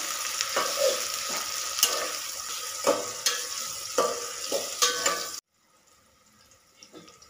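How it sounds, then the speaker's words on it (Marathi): Chopped tomatoes fry with onion in a hot pan, sizzling loudly under a series of sharp, rhythmic stirring scrapes, then the sound drops abruptly to a faint quiet sizzle with a few soft knocks. "तर हे घालूया। हे देखील भाजून घ्यायचे"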